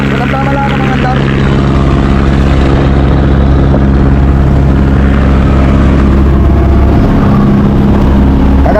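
Boat engine driving a bronze propeller on a small outrigger fishing boat, a loud steady drone with constant low hum and mechanical rattle through the whole stretch.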